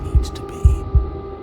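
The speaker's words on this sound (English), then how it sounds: "a wooden and fleshy heart beating with an unbroken rhythm" A wooden, fleshy heart in the game Slay the Princess beats in an unbroken rhythm, three deep low thumps spaced evenly over a steady hum, with faint higher tones at the start.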